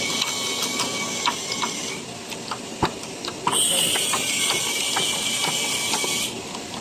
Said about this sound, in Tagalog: So i-flex ko itong aming press machine na DIY.